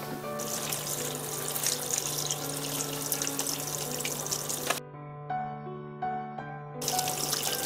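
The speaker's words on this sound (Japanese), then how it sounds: "水道水でちょっとね優しく洗いましょう" Grilled eel being gently rinsed under a running kitchen tap, a steady close splash of water into a sink that briefly thins to a softer trickle before gushing again, with no voices.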